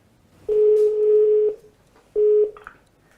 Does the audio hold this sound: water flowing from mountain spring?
no